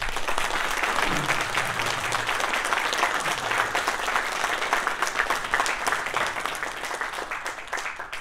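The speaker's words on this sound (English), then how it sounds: "let's give him a round of applause." A crowd at a drag racing awards banquet claps steadily and fairly loudly throughout, with faint murmurs and a brief voice low underneath early on.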